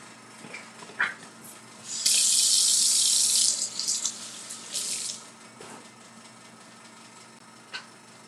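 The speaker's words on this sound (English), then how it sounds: "Let me wash my hands." Hands are washed under a running kitchen tap: a few soft splashes and clatters, then a steady hiss of flowing water for about a second and a half, followed by shorter bursts as the water is turned on and off.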